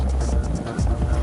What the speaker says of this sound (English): Troop-carrying helicopters can carry out landings far from enemy defenses with speed and precision.